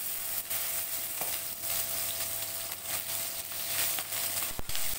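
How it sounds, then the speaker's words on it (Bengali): Pieces of morola fish fry in hot mustard oil in a pan, a steady close sizzle with scattered crackles and occasional clinks as the fish is turned. "এবারে মাছ উল্টে পাল্টে লাল লাল করে ভেজে নেব"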